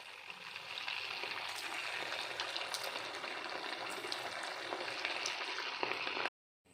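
Rava sweet balls fry in oil over a low flame with a steady, close crackling sizzle and fine scattered pops. The sizzle continues evenly, then cuts off abruptly just before the end.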